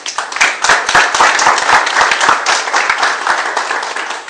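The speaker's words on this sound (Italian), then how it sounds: "È possibile moderare gli applausi per non creare allarmismi" An audience at a Calabrian community event applauds, with dense, steady clapping from many hands lasting the whole few seconds at close range.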